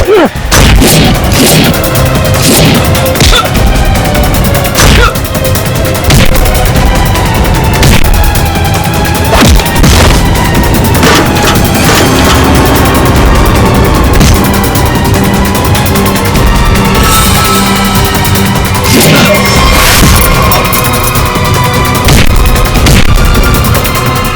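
Gunfire in a crime drama scene: a very loud, dense barrage of shots and booms, rapid and continuous, with heavy echoing throughout.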